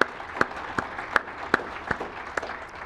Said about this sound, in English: So we can have a final closing round of applause for all the speakers.